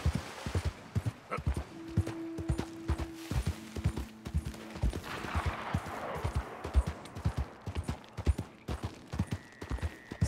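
Horse hooves clip-clop in a steady galloping rhythm across Red Dead Redemption 2's open terrain, close and fairly loud, with brief tonal game sounds and a faint spoken voice in the background.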